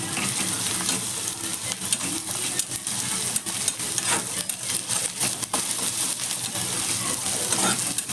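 Fresh ginger paste is stirred into chicken liver fry in a hot pan, a steady loud sizzle running throughout with scraping, clinking stirs spaced irregularly over it.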